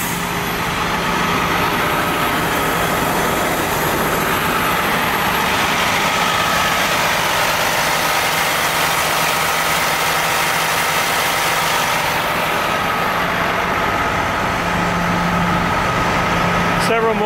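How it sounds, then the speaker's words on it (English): A city bus idles nonstop outside Barclays Center, a loud, even diesel drone with a low rumble that holds steady throughout without a break. "This bus has been idling for at least an hour."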